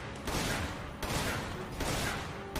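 Gunfire in the stealth video game Splinter Cell: Chaos Theory, heard as a dense, loud burst that runs almost without a break, with sharper shots near the start, middle and end.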